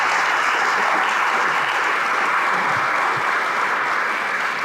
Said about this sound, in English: If we can have a round of applause for this incredible panel.